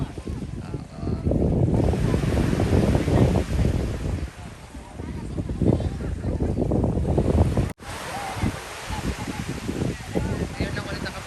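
Surf at a beach with gusty wind buffeting the microphone, a loud continuous wash of waves, and people talking over it.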